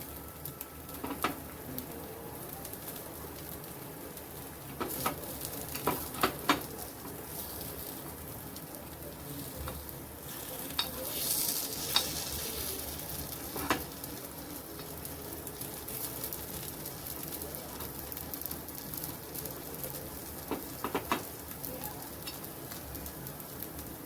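Jowar and green moong appe cook over a low gas flame in an appe pan, giving a soft, steady sizzle with scattered light pops and ticks.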